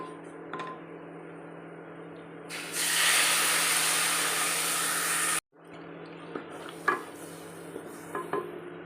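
Water poured into a hot pan of fish curry hits with a loud, steady sizzling hiss for a few seconds, then settles into quieter clinks and stirring noises.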